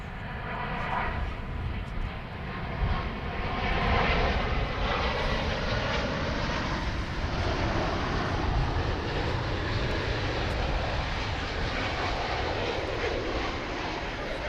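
A United airliner on final approach to land on the right runway at DFW Airport gives off a steady, broad engine roar that holds at an even level throughout.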